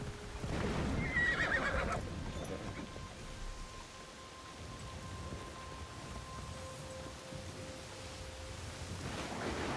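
A horse whinnies loudly near the start in the video game Assassin's Creed Shadows, followed by soft clip-clop and a steady rumbling backdrop with faint tonal hums.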